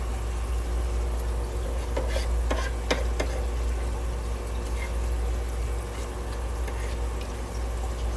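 Homemade garden marinara sauce stirred in a pot with fresh basil, a steady low scraping and swishing with a few brief clinks of the spoon against the pot, close and continuous.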